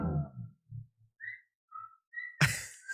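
Short whistle tones sound faintly among low murmurs and brief noises, followed by a louder burst near the end.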